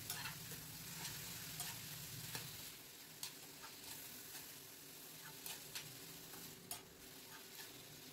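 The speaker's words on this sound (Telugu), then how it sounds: "తర్వాత 2 మీడియం సైజు టమాటాలను కూడా ఇలా ముక్కలుగా కట్ చేసుకొని వేయించుకోవాలి." Chopped medium tomatoes, onions and green chillies fry in a pan with a soft, steady sizzle, broken by occasional light ticks of stirring; the sound stays faint with no talking.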